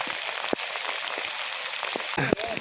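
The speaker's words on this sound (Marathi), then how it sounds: "पाऊस जोरदार पड पडतोय" Heavy monsoon rain pours steadily during river flooding in Mandangad taluka, a dense continuous hiss with scattered sharper drops and splashes, close and loud throughout.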